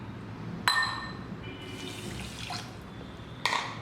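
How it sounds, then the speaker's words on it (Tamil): Water runs and splashes steadily into a wide metal pan of sugar for rasgulla syrup, with a couple of sharper clinks at the start and end. "முக்கால் கப் சீனிக்கு ஒரு கப் தண்ணி ஊற்றிக்கலாம்"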